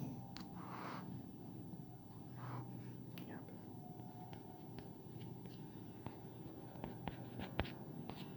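Homework being written by hand for a Class 7 lesson, faint scratchy pen strokes and small taps over a quiet room hum, with hushed voice sounds.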